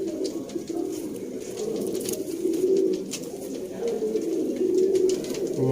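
Sialkoti pearl pigeons coo in low, throaty, repeated phrases, close and fairly loud, with a soft rustling backdrop and no talk.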